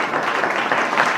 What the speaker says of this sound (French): Nous acclamons pour vous.